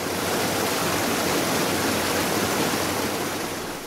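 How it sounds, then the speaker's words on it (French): The Iléhou cascade, a waterfall seen from a hillside path, gives a steady broadband roar of falling water, even and unbroken, moderately distant with no voices. "Nous sommes en vue de la belle cascade d'Iléhou."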